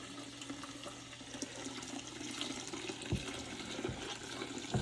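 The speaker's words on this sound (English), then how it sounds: "Doing a dirty water dump, guys." Dirty water from wax stripping and cleaning a prefinished hardwood floor dumps out in a steady gush and gurgle, with a low machine hum underneath and a few sharper splashes near the end.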